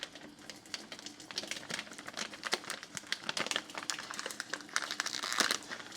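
A crinkly plastic package of garbage disposal cleaner is handled and pulled at, giving close, quiet bursts of irregular crackling and rustling throughout.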